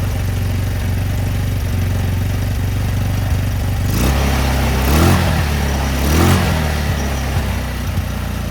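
An ATV engine runs with a steady low rumble, rising in a few revving surges as it drives in gear, loud and close with no talk.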